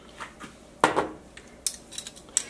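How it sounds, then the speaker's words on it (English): A Mickey Mouse measuring spoon stirs vegan chili in a pot, giving a few sharp clinks and scrapes against the pot, one louder scrape followed by lighter taps, close and without talk. "I've been using a Mickey Mouse thing to stir it around"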